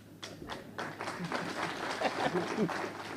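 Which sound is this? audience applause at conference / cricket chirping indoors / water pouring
audience applause at conference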